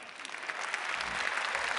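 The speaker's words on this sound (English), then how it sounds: "Applause for Dan." Audience applause at an Ig Nobel Prize lecture, a sustained mid-level patter of many hands clapping in a hall that continues for the whole short stretch.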